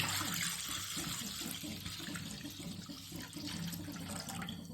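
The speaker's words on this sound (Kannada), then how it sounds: "ಈಗ ಅದಕ್ಕೆ ಸುಮಾರು ಒಂದು ಅರ್ಧ ಲೀಟ್ರಷ್ಟು ನೀರು ಹಾಕೋಣ ಪ್ಯಾನ್ಗೆ" About half a litre of water runs steadily from a tap, splashing into a pan with a continuous hissing gush, alone and fairly close.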